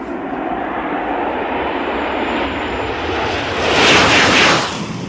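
The V150 TGV high-speed test train rushing past at 500 to 550 km/h on the last big curve of the test zone, a loud broadband roar that swells to a bright peak as it passes.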